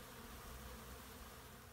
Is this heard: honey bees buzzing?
yes